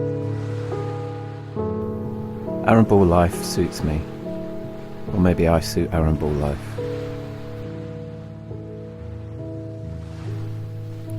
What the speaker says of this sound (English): That sound you can hear are the waves lapping up on the shore